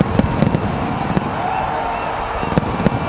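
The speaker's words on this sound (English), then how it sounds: "Fireworks are off. They're banging away here, up in the sky, down on the ground." Fireworks bang over a cricket stadium during the 2011 World Cup final between India and Sri Lanka, a handful of sharp cracks scattered through a dense, steady crowd roar.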